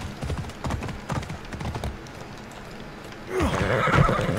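A horse in the video game Assassin's Creed Odyssey neighs loudly near the end, after a stretch of hoof clip-clops and game ambience.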